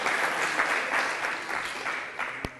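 A studio audience at a Catalan TV quiz show applauds steadily and loudly for a team's correct answer, a dense unbroken patter of clapping with one sharp knock near the end.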